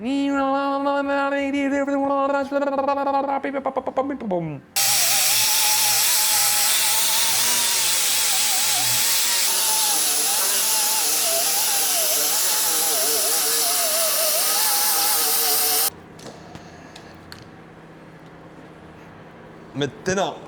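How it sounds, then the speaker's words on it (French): An angle grinder cutting into metal roars as a loud, steady broadband hiss for about eleven seconds, then stops abruptly. Someone talks just before it starts, and faint sounds and voices follow. "nous allons commencer par meuler."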